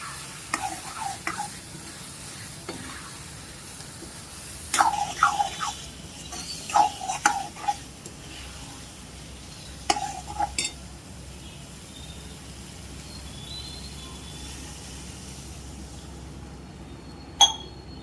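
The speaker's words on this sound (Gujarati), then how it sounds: "મિક્સ કરી અને ચમચાથી હલાવી નાખીએ" A spoon stirs boiled rajma into a simmering gravy, scraping and clinking against the pot in a few bursts with faint sizzling between them, close and fairly quiet.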